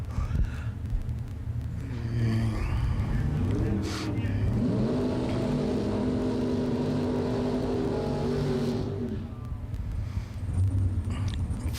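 A big Mopar drag racing car accelerates down the strip at a bracket racing event, its engine roaring and rising in pitch through gears, loud at first then fading, with announcer talk faintly alongside.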